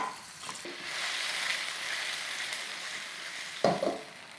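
Vegetables, bitter melon among them, sizzle steadily in a pan on high heat, a continuous close hiss with a couple of sharp clanks near the end and no talk.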